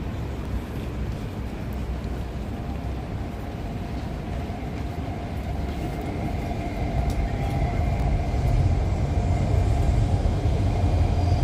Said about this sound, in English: No jet sounds yet, it's only the train sounds